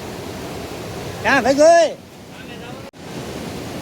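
Swollen Grahvo river running bank to bank after the season's first heavy rain, a steady broadband rush of water filling the whole clip, with a man's brief spoken question rising over it midway.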